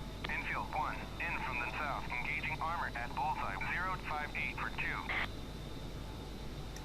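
A steady, loud jet-engine roar from an A-10C pushed to full power in the DCS flight simulator fills the whole stretch, with a radio-style voice talking over it.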